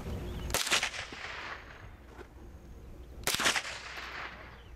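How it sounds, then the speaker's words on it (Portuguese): Two sharp gunshots from a CBC 7022 semi-automatic .22 LR rifle, a few seconds apart, each cracking loudly and ringing out against quiet outdoor background. "vamos efetuar alguns disparos com ela"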